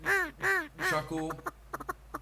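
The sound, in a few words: duck call imitating a duck chuckle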